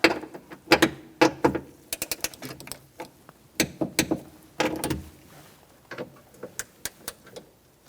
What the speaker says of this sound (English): Now we're going to torque these 4 bolts to 97 inch-pounds.